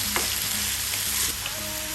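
Callaloo and saltfish sizzling in a pan while a spoon stirs through them, a close, continuous fry with a few scraping strokes on top.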